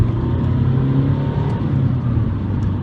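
Porsche 911 Turbo S under hard acceleration on a road, a loud steady engine drone with low rumble heard from inside the car, sustained without a break.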